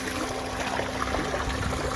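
Water trickles steadily out the back of a smoothwater sluice header, a continuous, even wash of running water with no voices.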